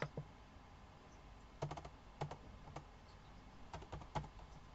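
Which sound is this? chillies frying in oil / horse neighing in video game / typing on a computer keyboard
typing on a computer keyboard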